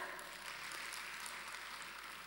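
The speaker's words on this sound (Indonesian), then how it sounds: "kita kasih tepuk tangan" Audience applause in a church service, a steady wash of clapping that stays at an even, moderate level from start to end with no talking over it.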